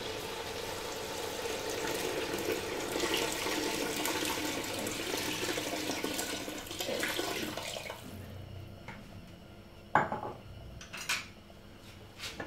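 Water poured into a pot of chicken cooked with spices for Moroccan rfissa, a steady rushing pour for about eight seconds, then quieter clinks of pans and utensils near the end.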